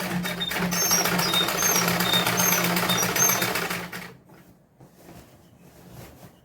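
A sewing machine stitches salwar fabric in one loud, close, continuous run of rapid needle strokes, then stops abruptly, leaving quiet handling noise.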